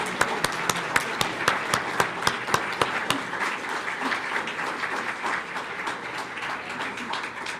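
Audience applause at a weekly meeting honoring Jane, beginning with a few sharp, distinct claps and swelling into steady, dense clapping from a room full of people that continues evenly to the end.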